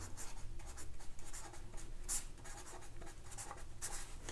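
Roman numerals being written on a board during a maths lesson: continuous faint scratchy strokes of a marker or chalk, close and quiet, with short flicking taps as the characters are formed.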